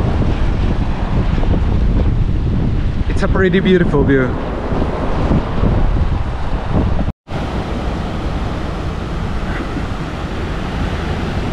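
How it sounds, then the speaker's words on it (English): Ocean waves rumbling along the coast of Lima make a steady, loud, broadband roar, heavily mixed with wind buffeting the microphone, while someone speaks briefly over it. "the tide begins to rise and the waves rumble"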